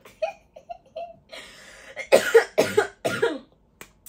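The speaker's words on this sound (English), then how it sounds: "I just had to cough" A person coughs several times in a quick burst of harsh, loud coughs, preceded by softer throat sounds and breaths, close to the listener in a quiet room.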